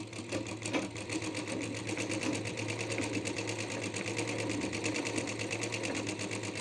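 A sewing machine stitches the back neck of a blouse, running steadily and close by for the whole stretch with an even, rapid mechanical whir and no talking over it.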